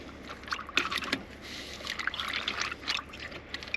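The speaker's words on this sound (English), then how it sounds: "just drain all the water off like that" Water drained from a JetBoil cup through its French press lid at a lakeside camp, a light intermittent trickle and splash with small bursts, close and fairly faint against quiet outdoor background.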